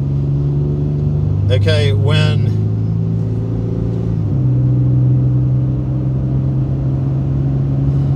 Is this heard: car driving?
yes